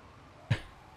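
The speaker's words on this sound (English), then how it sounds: "And I just sat down and went to clear my throat really obnoxiously." A single short, sharp throat clearing close to the microphone, loud against a quiet room background, during a livestream of Farming Simulator 19.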